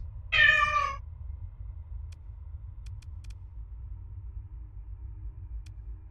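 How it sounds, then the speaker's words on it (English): A single plaintive cat meow, loud and close, lasting under a second, followed by a low steady rumble with a few faint ticks. "Horribly sad, meowing noises."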